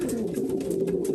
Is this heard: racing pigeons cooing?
yes